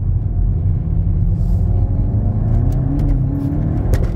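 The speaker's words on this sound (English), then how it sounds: "All wheel spin." Low, rumbling engine roar from a Volkswagen Golf GTI MK8 as it pulls away hard with wheel spin on a country road, a steady throaty drone with faint rising tones and a few light clicks near the end.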